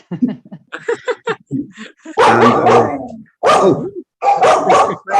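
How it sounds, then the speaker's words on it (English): A dog barks and yips several times at close range, a string of short sharp barks followed by longer, louder whining barks in bursts. "Happy doggy."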